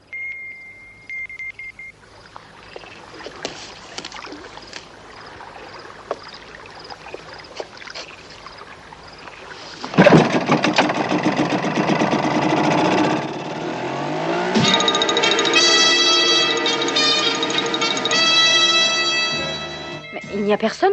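An outboard motorboat engine, started by pulling a handle, bursts into a loud, steady running roar that builds and holds, following quieter ambient sound; set in a 1968 television adventure episode.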